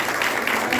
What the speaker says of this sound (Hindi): खूब खूब तालियां